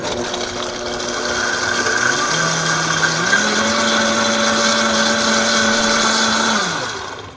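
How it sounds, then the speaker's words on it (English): A high-powered blender whirs loudly and steadily while blending a tube-feeding mixture, its motor pitch stepping up partway through before winding down at the end, with no talking. "So I have a high-powered blender here, so we really only need to blend it for about 1 to 2 minutes."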